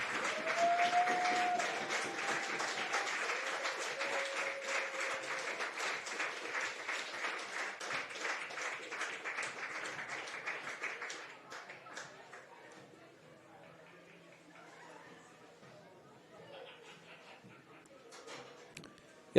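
Spectators clap at a girls high school soccer match between Santiam Christian and St. Mary's, sustained applause for about eleven seconds before it thins and fades to quiet chatter.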